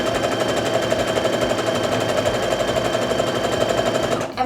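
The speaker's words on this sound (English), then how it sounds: "So now I can just go ahead and start sewing." Sewing machine stitching rows of a quilt top, a loud close rapid mechanical chatter running steadily throughout before stopping abruptly at the end.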